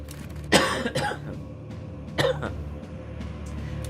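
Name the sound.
cough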